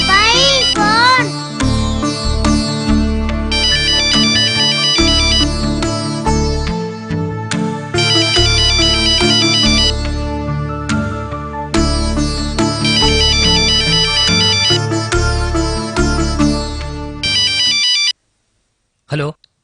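Telephone ringtone playing a loud melodic tune close by, repeating its jingle phrases for most of the stretch before cutting off abruptly near the end.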